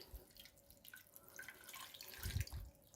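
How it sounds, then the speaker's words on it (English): Water runs from a tap into a saucepan used for melting beeswax. The trickle is faint and uneven, with a few louder splashy bursts near the end. "Put some more water in."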